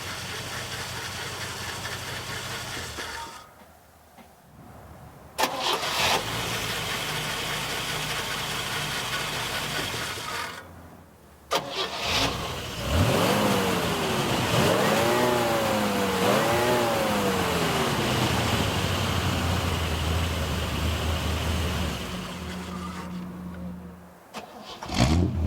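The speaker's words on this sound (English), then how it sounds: "The engine sounds great." A car engine cranks and catches several times, separated by short pauses, then settles into a loud idle with rising and falling revs from a nearby engine, with a faint fan belt in the mix.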